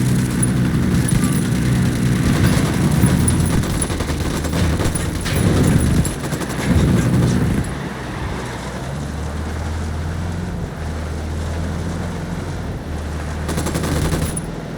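Automatic gunfire from the video game Ghost Recon Wildlands, loud, dense bursts of shots over the first eight seconds, then a lower rumble with a final burst near the end.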